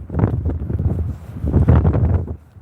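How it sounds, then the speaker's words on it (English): Strong cold wind at Hollym beach buffeting the microphone in heavy, uneven rumbling gusts, loud and close, with no other sound clearly standing out. "the wind is really bad and it's cold"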